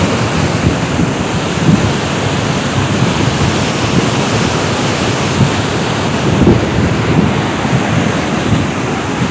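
Water cascades over large rocks along a mountain route on Cerro de la Muerte, making a steady, dense rushing roar up close that holds evenly throughout, with no voices.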